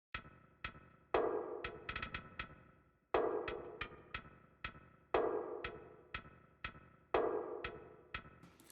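A FL Studio percussion loop with added hi-hats plays alone: crisp rapid hi-hat ticks layered over repeating punchy hits in a steady, looping groove, loud and close.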